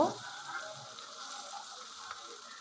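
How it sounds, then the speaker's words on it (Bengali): Puti fish frying in a pan, a faint, steady sizzle of oil that fades slightly after a brief louder start, with no talk over it. "মাছগুলোকে ভালো করে এপাশ ওপাশ ভেজে নেবেন"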